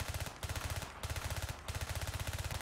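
Rapid automatic gunfire at a shooting range in the VR shooter Zero Caliber, loud and close, in three sustained bursts separated by brief pauses.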